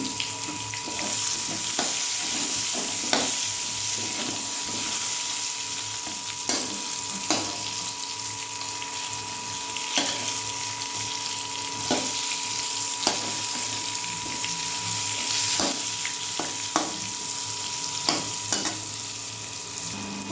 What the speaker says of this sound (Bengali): বেগুনটা ভাজার মাঝের শব্দ।